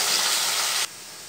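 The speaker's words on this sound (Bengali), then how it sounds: "এখন আমি আলুগুলি ভেজে নেব।" Potatoes frying in hot oil in a home kitchen, a steady close sizzle that drops abruptly to a quieter crackle near the end before a short loud flare.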